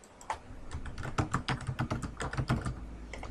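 Rapid typing on a computer keyboard while entering settings values, a dense run of close, crisp key clicks with uneven rhythm and a few heavier strokes, with no talking.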